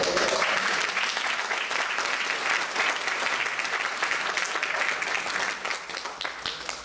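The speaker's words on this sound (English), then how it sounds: "Give her some applause." A church congregation applauds a singer, a loud, sustained wave of many hands clapping for about seven seconds that eases slightly near the end, with no speech over it.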